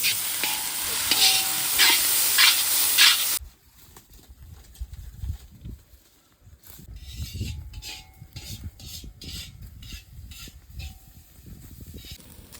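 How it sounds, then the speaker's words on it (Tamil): Sliced onions with cinnamon, cloves, fennel, bay leaf and curry leaves sizzle loudly in clean oil for conch curry, then the frying fades to quieter stirring and scraping in the pan. "லைட்டாக கிண்டிக்கலாம்."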